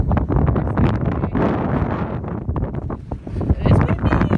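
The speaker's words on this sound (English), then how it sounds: "It's windy!" Strong wind on Mount Baker buffets the microphone in loud, uneven gusts, rumbling and roaring continuously with occasional rustling.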